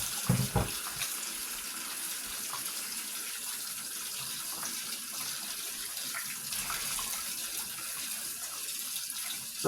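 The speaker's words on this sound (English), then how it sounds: "take my meat and just wash it up under the thing, trying to wash all the salt off of it." Tap water runs steadily into a sink over a raw salted pork steak being rinsed, a continuous close gush and splash with a few brief knocks near the start and no talking.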